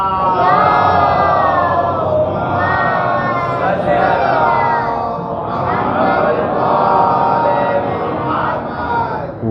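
A mosque congregation at a Muharram majlis loudly chants salawat in unison, a dense sustained roar of many voices that swells and dips in waves with no break.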